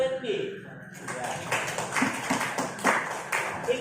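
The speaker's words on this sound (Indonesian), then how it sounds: "tepuk tangan dulu Randy." A school class claps their hands together in a classroom, with a brisk burst of overlapping claps rising after a brief spoken moment and continuing fairly loudly to the end.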